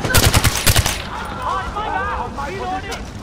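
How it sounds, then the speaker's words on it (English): Rapid machine gun bursts fire from a nest in the Far Cry 4 video game, loud and close at first, then fading into a lower rumble as game voices talk over it. "Machine gun nest!"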